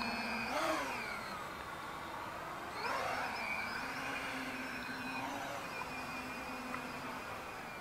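HobbyKing Quanum Chaotic full-3D quadcopter running on a powerful LiPo, a continuous whining motor buzz whose pitch swoops up and down several times as the throttle changes during flight.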